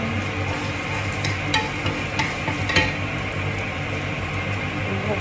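Ginger sautéing in a pan, a steady dense sizzle with occasional light stirring scrapes, close and with no one talking over it.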